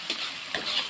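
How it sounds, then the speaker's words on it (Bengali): Spice paste stir-fried in a pan for a Bengali red chicken curry gives a soft sizzle, with two or three light scraping strokes of a spatula, close and quiet. "মশলাটা ভালো করে কষিয়ে নেবো"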